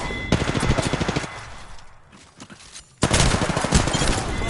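Automatic gunfire in an online shooter game, two loud sustained bursts of rapid shots separated by a quieter gap.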